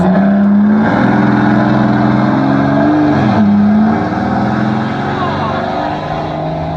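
A close, loud engine drones steadily, its pitch climbing and dipping as it revs, then easing slightly toward the end.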